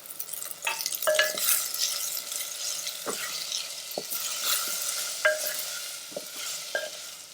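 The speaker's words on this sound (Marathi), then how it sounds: "तर टोमॅटो घालून मी याला चांगलं परतून घेणार आहे" Chopped tomatoes sautéing in a hot pan for South Indian sambar, a steady sizzle broken by repeated scraping stirs and occasional clinks of a spoon, close and moderately loud with no talking.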